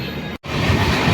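A Mumbai Express 22653 superfast train standing at Kasaragod railway station in Kerala, with a steady loud rumble of idling rolling stock and station ambience, cut by a brief dropout near the start.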